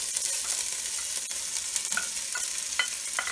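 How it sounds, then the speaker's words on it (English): Vegetables sauté in a pan with a steady hiss of sizzling and several sharp scraping stirs up close, no talk over it. "I'm gonna throw in my vegetables, and I'm gonna saute these down for about 7 minutes until they get soft"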